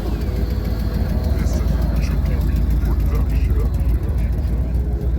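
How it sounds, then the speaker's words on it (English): An original AC Cobra at the London Concours, in the grounds of the Honourable Artillery Company, rumbles past with a loud, steady engine roar that holds for the whole stretch amid a murmuring crowd. "Make way for the AC Cobra."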